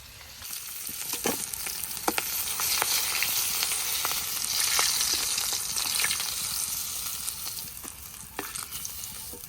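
Fish frying in hot oil in a village kitchen, a steady bright sizzle running the whole time with occasional sharper pops and crackles, close and alone with no talk.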